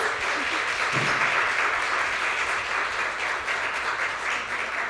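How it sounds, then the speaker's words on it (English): Audience applause for speakers at an evening community talk event, a steady dense wash of clapping from a crowd filling the whole stretch at even loudness. "Give them a round of applause"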